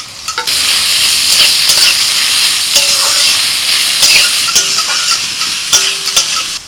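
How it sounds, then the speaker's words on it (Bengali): Chicken fries in mustard oil tempered with a bay leaf, dried red chilli and cumin, giving a loud, continuous sizzle and hiss punctuated by sharp clinks of stirring against the pan. "প্রথমে আমি চিকেনটা রান্না করছি আর ফোড়নে দিয়েছি একটা তেজপাতা, শুকনো লঙ্কা আর সাজিরে"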